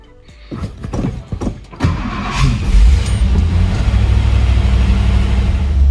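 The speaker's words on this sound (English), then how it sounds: "So, gonna keep it running for a little bit, let it warm up a little." A 1964 Ford Thunderbird engine cranks and catches, then settles into a loud, steady, rumbling run as it warms up, with no voices over it.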